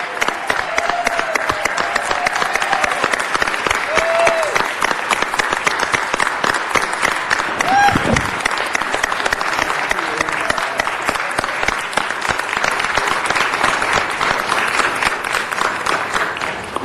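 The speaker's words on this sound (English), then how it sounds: "Please give her a round of applause." A large audience applauds steadily at a city council meeting honoring a congresswoman, dense sustained clapping filling the room for the whole stretch, with a few faint voices briefly audible.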